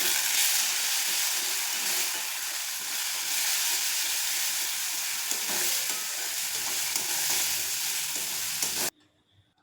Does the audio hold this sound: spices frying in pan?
yes